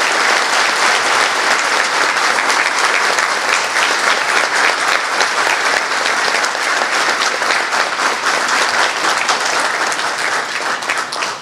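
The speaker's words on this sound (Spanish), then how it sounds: "Un aplauso para el doctor Roberto Jiménez." A ceremony audience marking health workers' day gives dense, loud, continuous applause with no pause, filling the whole stretch and easing off only slightly at the end.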